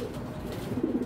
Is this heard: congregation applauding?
no